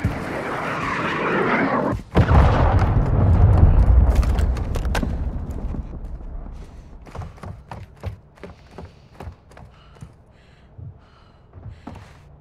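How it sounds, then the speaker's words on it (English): A cruise missile strike in Call of Duty MW2 hits with a loud, sustained roaring rumble for several seconds, then fades into scattered sharp crackles and small distant impacts. "Hostile cruise missile launch."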